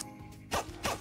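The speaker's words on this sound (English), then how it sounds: "I don't like that zipper sound." Inventory zipper sound effect from the Cuisineer video game: two short, bright zipping bursts about a third of a second apart, rising clearly over a quiet background.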